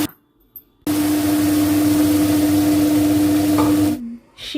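Mustard seeds, dried chillies and turmeric hit a hot wok and sizzle loudly and steadily for about three seconds, with quiet moments before and after.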